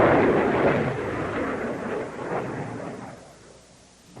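A multiple launch rocket system fires its rockets with a heavy, roaring rumble that starts loud and close, holds as a broad rushing blast, then fades away over a few seconds.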